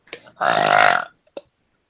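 A single burp swells and fades over about half a second, loud and close. A faint short noise comes just before it and a brief click follows.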